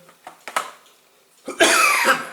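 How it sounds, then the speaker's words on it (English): A few small, dry coughs are followed by a louder, harsh fit of coughing at close range, with no talking. "I'm going to have to come back when I stop coughing"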